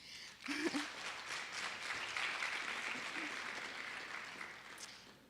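An audience at a poetry event applauds the sponsors, a continuous, fairly distant wash of many hands clapping that holds steady throughout, with faint voices mixed in.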